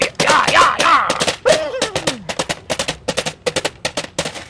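A voice chatters briefly, then rapid clopping knocks follow in an uneven trotting rhythm, hollow and close, like coconut shells mimicking horse hooves.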